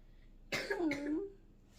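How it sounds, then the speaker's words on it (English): A single harsh cough, close and fairly quiet against a faint background, lasting under a second with a short throaty tail. "That might help with your cough."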